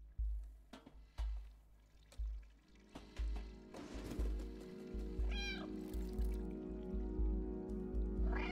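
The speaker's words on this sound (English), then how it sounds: "Okay, so meowing" A cat meows in the video game Stray, starting after a run of soft thumping steps and ending in a series of rising and falling meows over a low, steady background hum.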